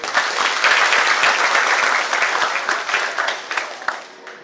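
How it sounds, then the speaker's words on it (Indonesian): Crowd at an Indonesian population registration event in Jakarta gives a sustained round of applause, dense and fairly loud at first, thinning into scattered individual claps toward the end. "Tepuk tangan."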